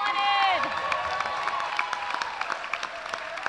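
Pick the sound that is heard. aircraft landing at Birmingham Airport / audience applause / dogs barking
audience applause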